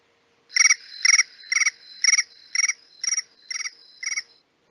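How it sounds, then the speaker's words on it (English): Eight evenly spaced cricket chirps sound as a phone text tone. They are crisp, shrill pulses at a steady rhythm, clear and close against near silence. "Why is my text tone crickets?"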